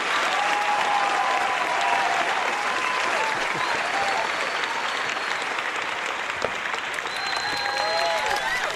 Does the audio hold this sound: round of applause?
yes